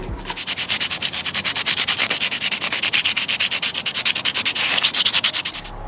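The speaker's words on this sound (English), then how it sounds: "now I'm gonna use that same sandpaper we used before, sand down these little air vent things." Sandpaper rubbed back and forth over small plastic air vents on a Dodge Charger rear diffuser, a close, steady rhythmic scratching with evenly spaced strokes throughout.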